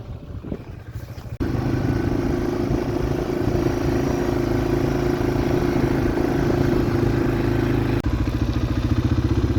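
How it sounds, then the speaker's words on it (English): A four-wheeler ATV engine revs up after a quiet start and then runs at a steady loud drone with clattering as it moves through a pasture gap, dipping briefly before carrying on. "Let's get the four-wheeler through this gap."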